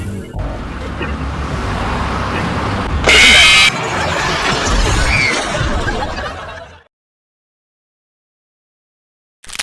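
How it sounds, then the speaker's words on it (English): A shiny new blue Hummer drives along, a loud continuous road and engine rush heard from inside with someone talking over it, then an abrupt cut to silence. "I'm just driving around in my shiny new blue Hummer"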